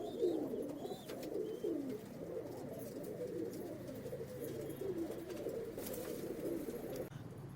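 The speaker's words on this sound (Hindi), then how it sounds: "जोधपुर राजस्थान से मदन जी, उस्ताद मदन जी के घर के कबूतर हैं" House pigeons from a home in Jodhpur, Rajasthan, coo steadily and close by in low, rolling murmurs that overlap without a break, over faint background hiss.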